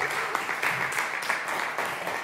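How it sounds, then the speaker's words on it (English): A church congregation applauds at an annual meeting, dense sustained clapping from many hands in a room, steady and fairly loud throughout. "that's worthy of applause"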